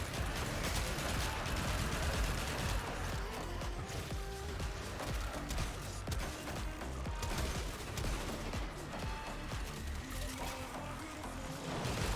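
A Warframe shotgun fires at a machine-gun pace, rapid blasts blurring into a dense, continuous rattle under layered game noise, heard fairly faintly.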